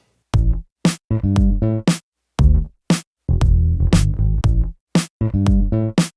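Plain, unsynthesized bass within a music mix, playing short punchy notes with clear gaps between them, loud and up front, with its volume shifting from phrase to phrase.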